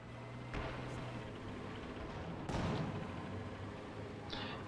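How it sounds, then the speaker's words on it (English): A pack howitzer in the video game Company of Heroes 2 fires a barrage at maximum range: two muffled, distant artillery thuds a couple of seconds apart, quiet under a low, steady game background. "Pack howitzer could move up a little bit. It's firing at max range, trying to barrage this pack."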